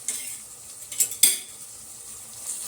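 Vegetables with ginger garlic paste are stirred in a pan for veg fried rice, giving a few sharp spoon clinks and scrapes over a faint sizzle in a quiet, close setting.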